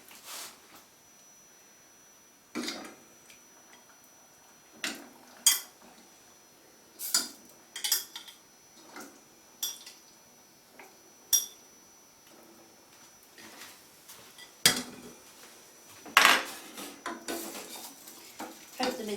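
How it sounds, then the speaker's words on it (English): Rabbit pieces go back into a pan of cream sauce with scattered clinks and knocks of utensils against the pan, spaced irregularly at moderate volume in a quiet kitchen. "I can now add the rabbit pieces back to this."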